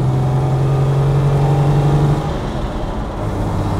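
A 1953 Mercedes 300 S Coupé with its 3-litre engine drives along, a smooth steady mid-pitched engine hum with a humming tone that drops slightly partway through, heard alone without talk.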